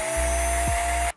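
A close power drill drilling into a plastic toy car base whines at a steady pitch, dips briefly mid-run as it bites into the plastic, then stops abruptly.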